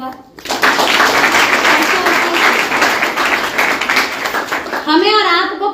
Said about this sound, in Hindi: बढ़िया, ताली बजा दो एक बार।